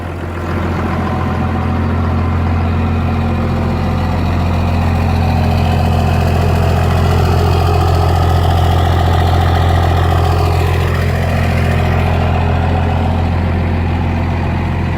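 Dodge Cummins diesel truck with a 12-valve manifold and a Dukes 2.0 5-inch Diamond Eye exhaust, idling close by with a deep, steady low rumble that swells slightly, no voices over it.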